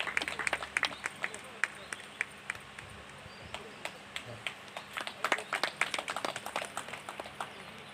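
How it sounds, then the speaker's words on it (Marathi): Villagers at a Buddha Purnima celebration clap in scattered, uneven bursts. The claps start sparse and grow denser and louder toward the end, with people talking underneath. "सर्वांनी जोरात टाळ्या वाजवायच्या."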